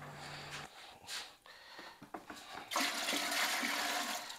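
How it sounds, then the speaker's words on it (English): Water poured into an autoclave sterilizer, starting as a splashy trickle and turning into a steady loud gushing rush near the microphone, with a few handling knocks along the way. "Maybe let me add some water and show you a little"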